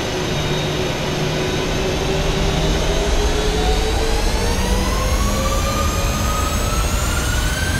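Ryanair jet engines spooling up to takeoff thrust in a flight simulator, a loud steady roar with rising whine tones that climb in pitch across the whole stretch, no talk.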